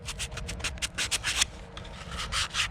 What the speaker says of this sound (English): On the bow of the kayak, I'll sand it a little bit just to clean the mess up on it.